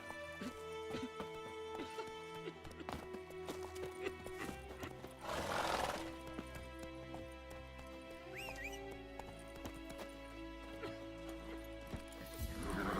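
The horse Roach galloping in the video game The Witcher 3, a steady clip-clop of hooves with a neigh among game music and ambient effects, no talking.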